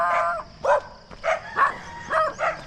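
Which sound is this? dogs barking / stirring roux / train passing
dogs barking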